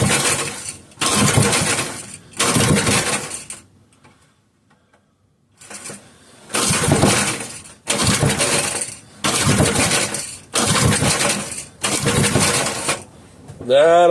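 A 3hp Briggs and Stratton small engine is pull-started on choke and fails to catch, giving about eight short, loud cranking bursts in a quick rhythm with a brief pause partway through.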